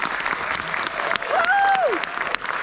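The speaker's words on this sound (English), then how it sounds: "Can we please give them a round of applause?" An audience at a high school Spanish honor society induction ceremony claps in a dense round of applause, with a whoop and scattered voices rising over the clapping.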